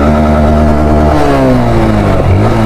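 A motorcycle engine on an enduro ride runs loud and close, its pitch sliding down and then rising again as the rider eases off and revs, steady throughout without speech.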